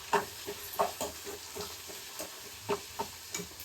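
Small onions and cut tomatoes cooking in a pan for a bitter gourd fry, a soft sizzle broken by irregular scraping stirs and light knocks of the utensil against the pan, close and fairly quiet.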